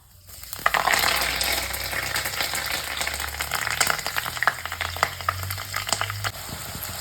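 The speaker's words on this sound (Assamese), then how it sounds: "এয়া এতিয়া প্ৰথমতে মই সৰিয়হ আৰু এয়া নৰসিংহ পাত দিম সৰিয়হ দুটামান দি দিছোঁ" Mustard seeds and curry leaves frying in hot oil, a steady loud sizzle with crackling pops that starts abruptly and continues throughout, with some stirring or clinking beneath.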